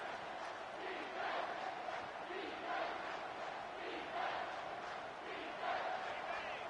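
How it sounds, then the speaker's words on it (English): A home crowd roars at a Notre Dame college football game as the defense tries to get off the field on third down, a dense, sustained stadium din swelling in repeated waves. "Here comes this home crowd as the defense tries to get off the field on 3rd down."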